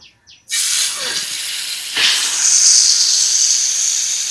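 Large masala-coated chicken pieces drop into hot oil, setting off a loud, close, continuous sizzle that swells and brightens after a second piece goes in, with a few faint bumps before it starts.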